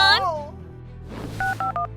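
Three distinct touch-tone beeps sound as 911 is dialed on a telephone keypad, evenly spaced and close, following a brief strained vocal sound.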